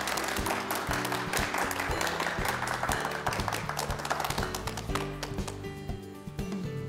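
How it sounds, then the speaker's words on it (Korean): A studio audience claps in steady, dense applause for a guest speaker on a television health programme, with music playing underneath, fading slightly toward the end. "박수로 청해주세요"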